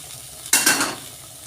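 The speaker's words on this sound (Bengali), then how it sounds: "ভালো করে সয়াবিনটা ভেজে নেব" Soybean chunks with turmeric are stirred in a hot pan, making a brief scraping sizzle that lasts under half a second over a faint background hiss.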